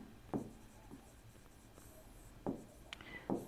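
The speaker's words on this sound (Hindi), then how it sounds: "मैं लिखता हूँ यहाँ" Writing on a board during a lecture, a few short scratchy strokes and taps spaced irregularly, faint and close in an otherwise quiet room.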